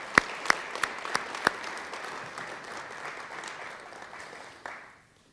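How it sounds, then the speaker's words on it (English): Audience applause at a government education announcement in Louisville, starting with several sharp, close claps over a steady patter of many hands, then thinning out and fading to silence near the end. "Let's give them all a round of applause for being a part."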